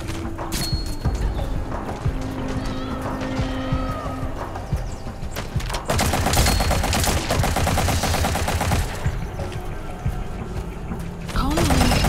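Rapid bursts of submachine gun fire in the online shooter Metal Gear Online 3, dense crackling shots layered with other game effects and mixed under a player's voice chat throughout.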